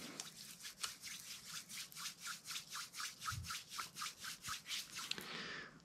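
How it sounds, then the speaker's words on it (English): Hands coated in Novu Fitness liquid chalk rub briskly together, a close, quiet series of about twenty rhythmic swishing strokes at a steady pace, ending with a brief fanning rustle. "now I'm just gonna rub my hands together, then I'm gonna like fan my hands back and forth to help them dry"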